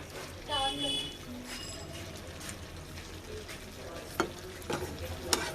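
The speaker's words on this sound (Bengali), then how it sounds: "আমি মাংসটা কষাতে দিয়ে দিয়েছি" Meat sautés in a pan for a Bengali kosha, a quiet ongoing sizzle with a few sharp stirring knocks near the end; a voice speaks briefly at the start over it.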